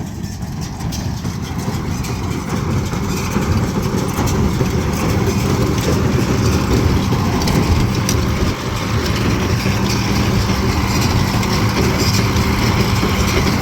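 An MTZ-82 tractor runs while baling hay, its engine a loud, steady low drone with a rough, rumbling texture that stays constant throughout and has no talking over it.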